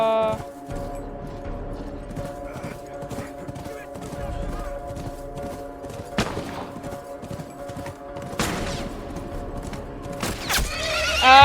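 A horse whinnies over steady clip-clop hooves in The Last of Us, with sharp thumps and bursts of noise breaking in, all set against a droning game backdrop.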